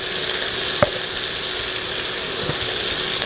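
Pork pieces hit hot olive oil in a slow cooker, giving a steady, close sizzle and hiss with a couple of soft plops as pieces drop in.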